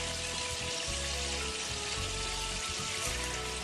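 Vegetables and onions frying in a pan for a vermicelli dish, with a loud, dense, continuous sizzle throughout and no voices.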